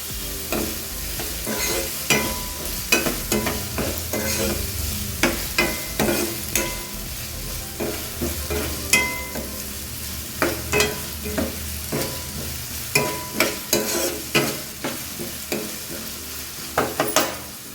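Tempering sizzles steadily in a pan for vegetable pasta while a spoon stirs and scrapes in frequent, uneven strokes, close and moderately loud, with no voices.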